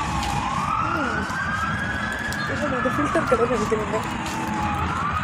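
An emergency siren passes along a street in Tallinn, its sweeping rise-and-fall wail carrying over steady traffic rumble while someone talks nearby.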